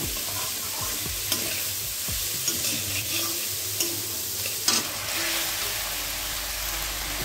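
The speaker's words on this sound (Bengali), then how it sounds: "এবার সমস্ত উপকরণটা একসঙ্গে মিশিয়ে ভেজে নেব।" Bottle gourd seeds frying in a pan with salt and turmeric, a constant close sizzle with occasional spatula scrapes and light taps, steady and fairly loud, no speech.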